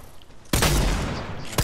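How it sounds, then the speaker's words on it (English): A loud burst of gunfire from a Fortnite shotgun fires abruptly after a quiet moment, then its sustained crackling blast decays before a second sharp report. "I finished him with my shotgun"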